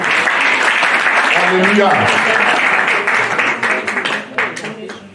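A church congregation at a couples' seminar claps and applauds loudly and steadily, with voices calling out over the clapping before it thins out at the end.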